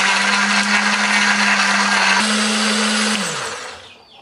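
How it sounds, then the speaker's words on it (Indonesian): An electric blender grinds a spice paste of garlic, shallots, ginger and turmeric with a little water, a loud, steady whirring roar that holds its pitch, then cuts off and winds down at the end. "Tambahkan sedikit air supaya lebih gampang untuk menghaluskannya ya."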